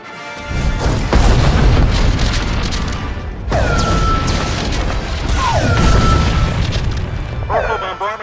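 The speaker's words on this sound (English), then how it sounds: "Orbital bombardment is underway." Heavy booming blasts and crashes from an orbital bombardment in the video game Star Wars: The Old Republic, loud and continuous with rumbling impacts, debris clatter and sweeping sci-fi tones, with game dialogue heard over the barrage.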